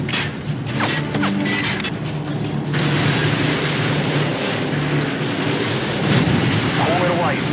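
Missile strikes in Call of Duty: Modern Warfare 2 Spec Ops, heavy booming blasts and mechanical rumble that stay loud and continuous, with radio-style voices over the top.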